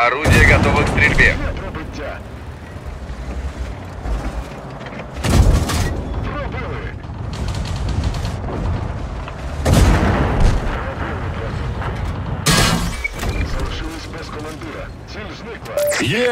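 Several heavy cannon blasts from a Tetrarch tank in a video game boom at intervals, each a sharp loud burst with rumbling decay, amid background game noise and occasional Russian radio-style voice chatter.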